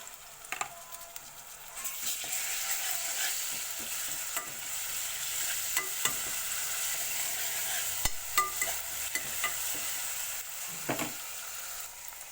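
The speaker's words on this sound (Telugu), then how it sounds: "ఆనియన్స్, పచ్చిమిర్చి వేస్తున్నాను. కొంచెం కలిపేద్దాం." Onions and green chillies stir-fry in a pan with a steady soft sizzle, punctuated by scattered scraping clicks of a spatula, close and alone.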